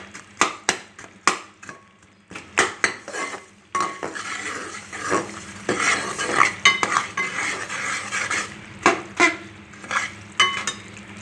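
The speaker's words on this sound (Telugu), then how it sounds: "కరిగేదాకా అప్పుడప్పుడు ఇలా కలుపుతూ ఉండాలండి." Spoon stirring sesame laddu mixture in a metal pan as it melts, with repeated sharp scraping clinks against the pan in irregular bursts over a soft background hiss, close and fairly loud.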